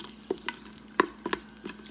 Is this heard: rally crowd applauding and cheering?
no